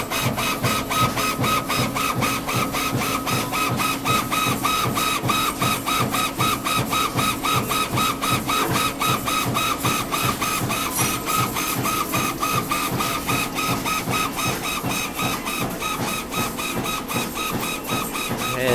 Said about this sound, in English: And that is your Vytek FX laser machine.